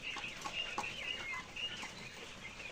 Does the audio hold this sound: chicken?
yes